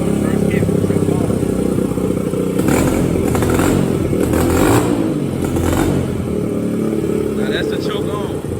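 A 2001 Honda XR100 dirt bike engine running with the choke on, a steady close, loud idle with a rough, slightly uneven putter and some rev swells, while a voice speaks over it.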